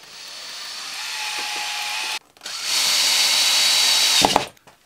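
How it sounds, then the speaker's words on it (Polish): Power drill driving ordinary wood screws into a piece of furniture, two sustained whirring runs close by with a brief pause between, ending in a short burst of knocking and clatter; no talk. "od drugiej strony przykręcimy na zwykłe wkręty"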